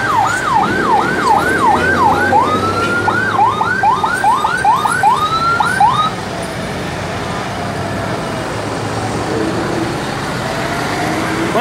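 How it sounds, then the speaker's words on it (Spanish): An ambulance siren wails in rapid rising-falling sweeps at night after a road accident in Zarzal, Valle del Cauca, Colombia, loud over steady traffic rumble, then stops midway, leaving the road noise. "ahí viene la ambulancia ya"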